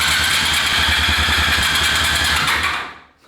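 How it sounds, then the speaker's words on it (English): Honda CB250 motorcycle, abandoned since 1986, cranking over with spark plugs fitted, a loud, steady rapid chugging rhythm for about three seconds that cuts off abruptly. "Now that we've got the bike turning over"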